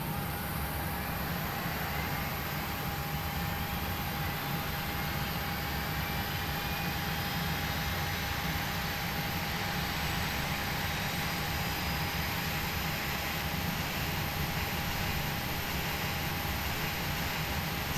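Number 1 engine of a Boeing 737-800 spinning up in a flight simulator, a steady, even roar and hiss with a fixed whine held throughout, constant in level and heard alone.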